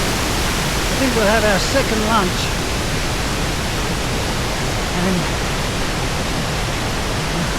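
A waterfall in the Val Venosta area of the Alps gives a constant full-band rushing roar, near and even throughout, while a person speaks briefly over it near the start.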